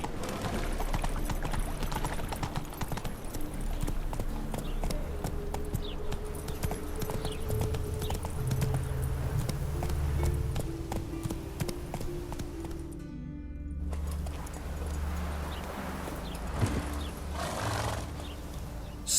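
Hooves of the horse Roach clip-clop at a steady gallop in The Witcher 3, joined by a whinny and snorting, loud and continuous with no voices.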